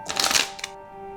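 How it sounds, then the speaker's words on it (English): A deck of playing cards is riffled in a quick, close burst of crisp fluttering snaps lasting under half a second, followed by one short flick and then quiet room tone. "Maybe shuffle again, Dr. Powell."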